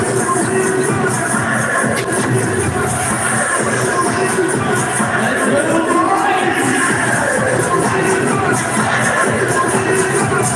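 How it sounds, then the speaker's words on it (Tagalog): A large Sunday crowd murmurs and shuffles inside Smart Araneta Coliseum at a PBA semifinal basketball game between Barangay Ginebra and San Miguel Beermen, a dense, steady babble of many voices with scattered thumps and faint cheers. "Huge Sunday crowd here at the Smart Arena to Coliseum."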